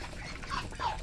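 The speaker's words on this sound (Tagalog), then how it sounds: "nag-away ang manok at pato" Ducks quack during a scuffle with chickens over food at a farmyard feeder, two short, fairly faint quacks in quick succession over a low background hum.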